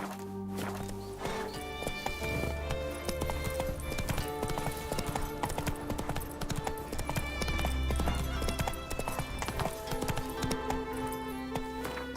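Roach, the horse in The Witcher 3 game on PC, gallops with fast, continuous hoofbeats over layered music and ambient game sound, steady and fairly loud throughout.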